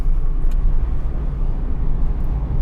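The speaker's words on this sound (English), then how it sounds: "this car sounds rough" A car engine runs rough while driving, a steady low rumble with road noise that stays loud and continuous throughout, no voices.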